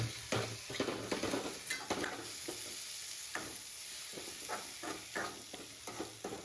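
Tomatoes go into a pan of frying masala for chicken masala, giving a close, crackling sizzle broken by repeated scrapes and stirring knocks of a utensil against the pan, with no talking.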